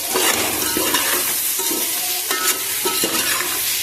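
Boiled eggs sizzle and fry in a hot egg biryani masala mixture as it is stirred, a steady close crackle with occasional scraping stir sounds and no talking.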